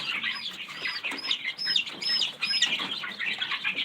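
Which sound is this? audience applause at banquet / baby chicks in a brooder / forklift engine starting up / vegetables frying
baby chicks in a brooder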